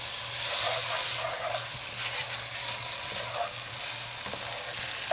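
Meat hits a high-heat pan for a stew and sears with a continuous close hiss and crackle, steady in level with small bursts, no talking.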